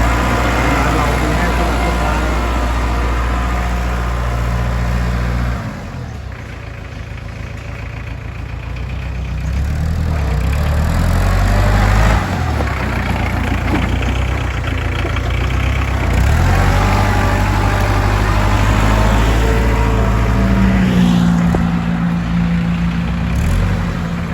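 A Kubota L4508DT tractor's diesel engine runs steadily at a low idle, a constant deep drone with slight shifts in pitch, heard close throughout while someone talks over it.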